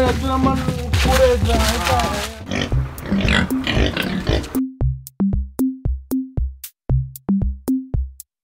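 Several short, deep pig grunts repeat in an uneven rhythm, loud and close, following a stretch of busy, muffled voices and background noise.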